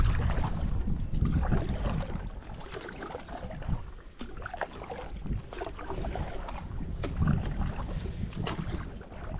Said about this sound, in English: Cressy, don't you be jerky when we're paddling like that